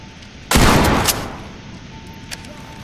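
A sudden loud gunshot burst in the tactical shooter Ready or Not, followed by a second sharp report and a decaying echo, with a faint distant shot near the end.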